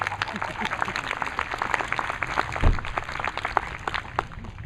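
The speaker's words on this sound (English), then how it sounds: "Applaud them." A theater audience claps steadily for several seconds, dense scattered hand claps continuing at a fairly even level with voices mixed in.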